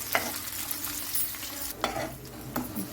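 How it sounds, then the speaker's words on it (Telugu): Onions frying for egg noodles give a continuous close crackling sizzle, broken by a few sharp scrapes of a spoon stirring in the pan. "తర్వాత ఉల్లిపాయలు, జర వేగనియాలి."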